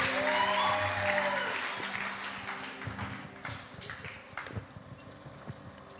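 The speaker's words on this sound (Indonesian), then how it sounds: "Beri tepuk tangan buat Tuhan." A youth church congregation at a Valentine's service applauds, a loud dense clatter that thins and fades to scattered claps and taps.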